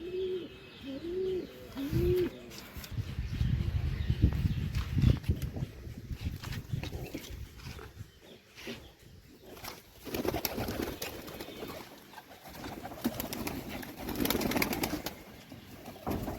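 Deshi golla pigeons give a few soft, rolling coos early on, then rustling and shuffling noises fill the rest at close range; no one speaks.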